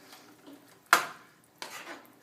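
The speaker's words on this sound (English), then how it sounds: "So I'm going to add this and I'm going to stir this around" Homemade pasta ribbons stirred with a utensil, giving two brief scraping clinks roughly two-thirds of a second apart, close and fairly quiet, with no talking.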